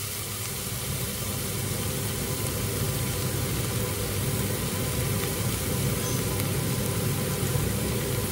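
A kitchen extractor hood runs with a steady, even whoosh of fan noise that stays constant throughout, with no talking.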